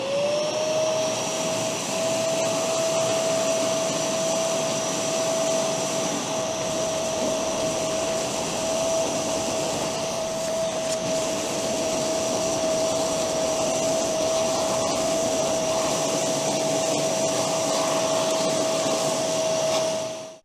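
A wet/dry vacuum cleaner runs continuously, sucking up sawdust, with a loud, steady motor whine and rushing airflow heard close up, uninterrupted for the full length and no talk.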